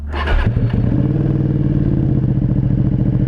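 A Ducati Panigale V2 950cc motorcycle fires up with a loud clattering start, then settles into a close, steady, throbbing idle with no talking.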